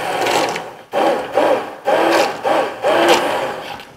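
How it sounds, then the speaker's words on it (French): A blender purees a thick homemade sauce made from canned goods and flour, whirring in repeated loud bursts with brief pauses between pulses, close and alone. "il n'y a plus qu'à mixer"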